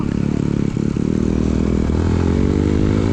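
An enduro motorcycle engine revs steadily in first gear during off-road training, a loud, close, continuous drone that rises slightly toward the end, with a few brief clattering knocks early on.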